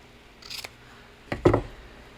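Scissors cutting material during hand bookbinding, two crisp snips close by, a light one followed by a louder, heavier cut, in a quiet room.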